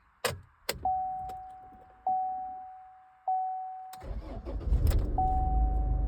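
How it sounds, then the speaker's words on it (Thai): A Chevrolet being switched off and restarted after an oil change: a few sharp clicks and repeated chime beeps, then the engine cranks and catches into a low rumble, near and fairly loud. "คราวนี้เราก็ลองปิดนะครับ เปิดสตาร์ทดูนะครับ"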